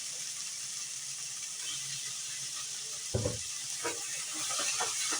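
Vegetables and garlic sizzling in a skillet for pepper steak, a soft steady hiss at moderate distance, with a brief clatter midway and light scraping toward the end.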